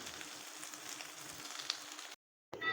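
Turmeric and other masala powders sizzle steadily in a hot pan while being stirred, a soft continuous crackle that cuts out briefly before resuming, with no talking.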